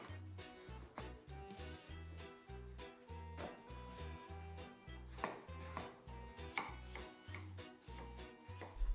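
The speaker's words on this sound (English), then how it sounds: "Take one medium to large eggplant and cut it into bite-sized pieces." A knife chops a medium-to-large eggplant into bite-sized pieces on a board, making a quick, regular series of close, firm thuds. Soft background music plays underneath and no one talks.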